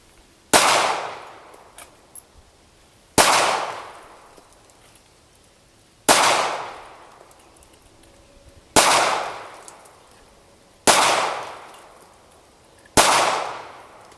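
A Ruger LC9 pistol fired slowly at a target, six sharp loud reports spaced a few seconds apart, each followed by a short decaying echo, with no talking.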